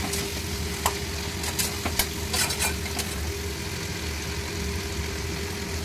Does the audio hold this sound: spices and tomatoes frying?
yes